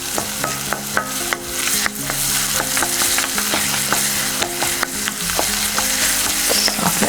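Onions, coriander stems and green chilies frying for a minced meat and peas curry, a steady loud sizzle broken by frequent clicks and scrapes of stirring in the pan.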